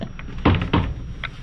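An interior door inside a Keystone Montana High Country 385BR fifth-wheel RV opens with two close, dull thumps and a light latch click, followed by a faint tap.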